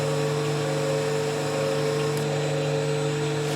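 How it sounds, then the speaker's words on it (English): A burning wire is held against a spinning wooden goblet on a lathe to scorch a decorative line, giving a steady motor hum with strong tonal lines and a faint friction hiss throughout. "I'm going to take my burning wire and set it right there, and we'll burn a little line in"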